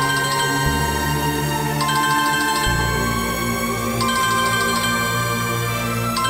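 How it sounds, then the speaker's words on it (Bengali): A mobile phone rings loudly with a repeating electronic ringtone melody, looping steadily throughout against a low background hum, with no talking. "জয়দেব বাবু ফোন করছে"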